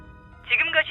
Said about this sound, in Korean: 숫자들을 누르는 손, 전화기를 귀에 대고 있는 손